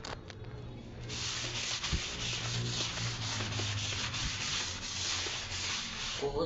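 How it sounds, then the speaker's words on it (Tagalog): Steady rhythmic scrubbing rasps and rubs against a surface to remove black stains, a continuous close brushing texture lasting several seconds with no talking. "Kukuskusin ulit natin para matanggal yung mga mga black na yan."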